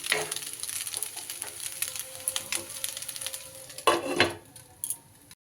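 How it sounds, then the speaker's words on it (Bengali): Food in a pan is stirred after salt goes in, giving clattering spoon scrapes and knocks over a light sizzle, then a couple of louder metallic clanks near the end, close and unaccompanied by speech. "আর একটু নুন আমি অ্যাড করে দিলাম, দিয়ে একটু মিশিয়ে নিয়ে"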